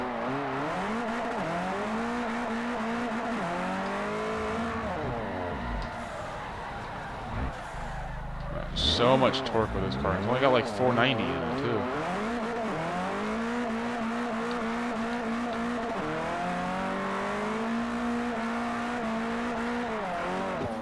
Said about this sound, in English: He just wants to spin tires